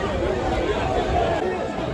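Crowd chattering outside a liquor store in pouring rain, a dense babble of many voices close by, with rain noise under the talk.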